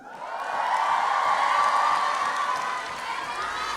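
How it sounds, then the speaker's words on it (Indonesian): An audience at a season-finale speech event cheers and whoops in a loud, sustained swell of voices and applause that fades slightly toward the end. "tepuk tangan sekali lagi dong untuk Aska dan juga untuk Evan"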